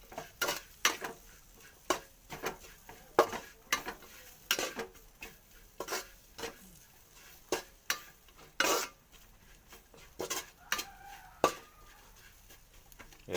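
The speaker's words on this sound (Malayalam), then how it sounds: "ഒന്നുകൂടി നന്നായി വഴറ്റിയെടുക്കണേ" Something being sautéed gently in oil over a low flame, with frequent sharp scrapes and taps of a spatula against the pan over a faint, soft sizzle, close and steady, with no talking.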